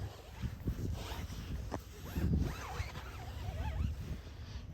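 A dirty car tire being wiped down with Mothers Back to Black waterless tire cleaner, close, soft rubbing and swishing strokes repeating over several seconds with faint wind in the background.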